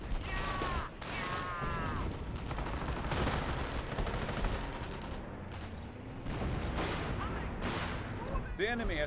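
Gunfire in a Company of Heroes battle with a rifle squad advancing: dense rattling rifle and machine-gun shots and mechanical clatter, continuous and loud, with a voice talking over it.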